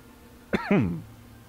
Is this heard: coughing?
yes